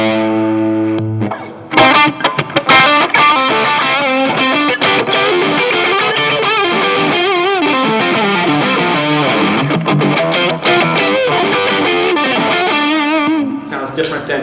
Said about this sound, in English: here's the distortion again.